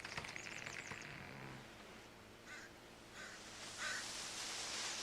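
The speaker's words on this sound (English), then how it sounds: "I love the ambient sound in this game. Hearing like things creaking, hearing the wind, the birds just singing in the background." Ambience from the survival video game The Forest: a few harsh crow caws at the start, then steady wind-like rushing noise with faint scattered bird chirps, all fairly quiet.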